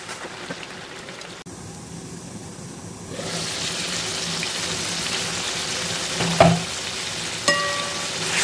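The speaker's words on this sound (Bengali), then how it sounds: "পানিটাকে শুকিয়ে আমি কষিয়ে নেব ভালো করে।" Beef sizzling as its released juices cook down in a pot, a steady frying hiss that grows louder partway through, broken by a couple of sharp scraping stirs.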